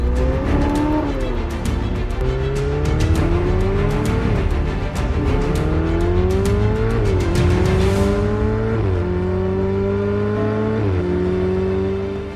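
A Ferrari 488 Pista Spider with a mid-engine V8 in race mode accelerates hard on a Jakarta road, loud and close, its engine pitch climbing and dropping through repeated quick upshifts.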